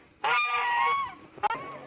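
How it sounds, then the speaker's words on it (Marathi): A loud, drawn-out goose-like honk from a duck, followed by a shorter sharp honk, close by with no talking. "बाबा बघा मोठले बदक कसे बारकाल्यांना हाकलून देतात"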